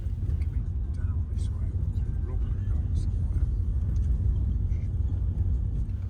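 Steady road rumble inside a taxi riding from Rome's airport into the city centre, a constant low engine and tyre drone heard throughout with faint ticks and background traffic.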